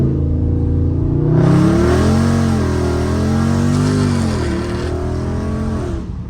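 A Dodge Charger Scat Pack accelerates hard but short of full throttle, its engine note climbing steadily in pitch from close range, easing briefly between gears, then pulling again as the revs rise and fall over a few seconds.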